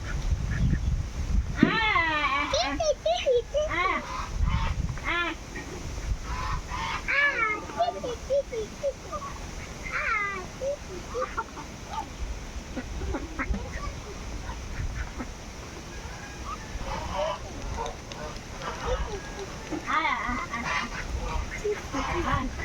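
Native domestic ducks quack and chickens cluck and call in a busy flock, close by and fairly loud, with a voice speaking intermittently among them.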